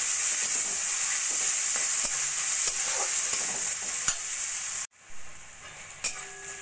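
Ginger-garlic paste masala is stir-fried in oil in a pan for a flat bean curry: a close, steady sizzle with repeated scraping strokes of a spatula, then the sizzle briefly cuts out and returns quieter with a few more stirs.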